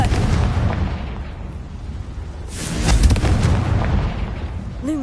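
A Confringo spell explodes in Hogwarts Legacy with a deep, rumbling boom. A sharp burst follows midway, and a crackling tail fades out afterward.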